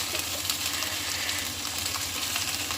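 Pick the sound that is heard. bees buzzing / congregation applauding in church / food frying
food frying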